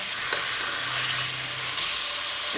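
A thin steak sizzling loudly in a hot wok just after being flipped, a steady, dense frying hiss close up with no voices.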